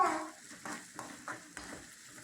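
Ingredients for Thakkalai-style pepper chicken sautéing in a pan, a soft sizzle broken by several quiet stirring scrapes at a loose, uneven rhythm, close and alone without talk.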